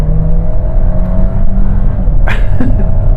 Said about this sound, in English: So I'm going to launch the car, and while I'm doing it, I'm going to time it from 0 to 60